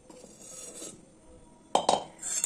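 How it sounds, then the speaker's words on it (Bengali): A spoon works mango pickle spice paste into cooled oil: soft rubbing and scraping through the first second, then a few louder close scrapes and clinks against the bowl near the end, with no talking. "চামচ দিয়ে ভালো করে তৈরি করে নিচ্ছি মশলাটাকে"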